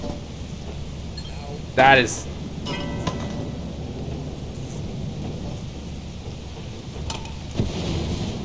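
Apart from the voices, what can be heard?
thunder from lightning in the video game Lethal Company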